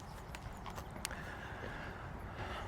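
A horse shifts about inside a barn stall, its hooves giving scattered clops and thuds on the floor over steady low background noise. No one speaks.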